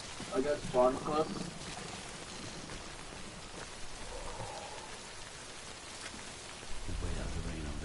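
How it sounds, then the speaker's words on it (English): Steady rain in a video game patters and hisses throughout at a fairly low level, with a voice talking briefly at the start and a low rumble near the end. "Wait out the rain over there."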